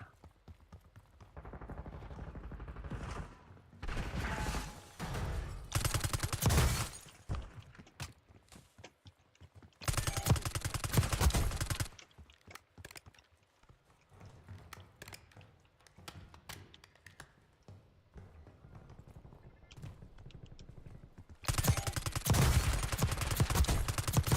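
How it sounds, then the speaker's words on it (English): Bursts of video game gunfire in a gunfight, with loud rapid volleys around the start, middle and end and quieter scattered shots in between, mixed with game sounds. "All right, we have gunfights right in front of us"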